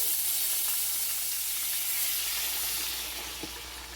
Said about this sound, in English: Now it's going to sizzle up when I pour it in here.